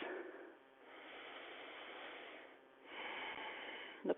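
Slow, smooth breaths during a yoga session, a soft airy inhale and exhale repeating in long waves, close and quiet, with no one speaking.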